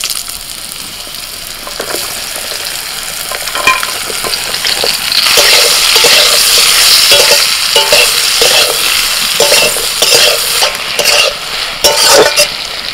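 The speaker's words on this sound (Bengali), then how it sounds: "এবার ঝিঙেটা একটু ভেজে নেব।" Sliced ridge gourd fries in hot oil in a home kitchen, a loud steady sizzle with repeated scraping stirs from a spatula, building in intensity partway through and keeping up without any talk.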